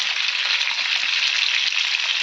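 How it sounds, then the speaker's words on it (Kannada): Fish frying in a pan: a dense, continuous hiss and crackle of hot oil, close and loud, unbroken for the whole moment with no voices. "ಮೀನು ಫ್ರೈ ಆಗ್ತಿದೆ ಘಮ ಘಮ ಘಮ ಘಮ ಬರ್ತಾ ಇದೆ"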